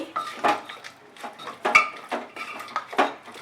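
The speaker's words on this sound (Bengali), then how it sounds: "ঢাকনাটা দিয়ে রাখবো 5 মিনিট।" Metal kitchenware clanks over a pot of Bengali mutton kosha as a lid is set in place: a series of close, sharp clinks and knocks come in short bursts with nobody talking.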